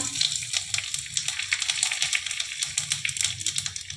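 Whole cumin seeds and three bay leaves sizzling in hot oil: a bright, crackling sizzle with rapid small pops and spits, steady and fairly close, with no talk over it.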